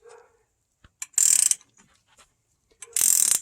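A ratchet tightens a press to seat a suspension bushing in an IRS cross axis joint: two close, loud bursts of rapid clicking with brief pauses between them.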